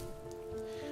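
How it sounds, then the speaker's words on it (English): Steady rain falls in a video game and patters softly and evenly on surfaces, with a faint low tonal layer of moody music underneath. The sound is brief and heard alone. "Seeing as there's rain and moody music."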